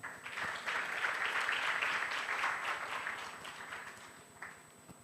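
Audience applause fills the hall at a national journalism awards ceremony in Uganda, a dense burst of many hands clapping that swells quickly, holds steady, then gradually thins and fades.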